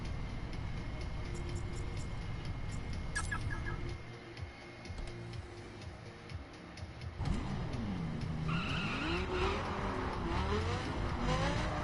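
A car's engine drones steadily in the racing video game The Crew, then rises and falls in sweeping revs as the handbrake is used, close and continuous throughout.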